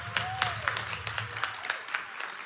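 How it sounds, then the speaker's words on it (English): A church congregation applauds, a fairly quiet, even spread of clapping with soft rhythmic peaks, a faint voice and murmur underneath. "I think you definitely deserve a round of applause."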